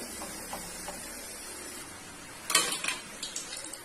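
Potato slices frying crisp in oil in a pan for a Diwali fish-and-potato fry, a soft steady sizzle that breaks into a louder burst of crackling and clinking stirring partway through.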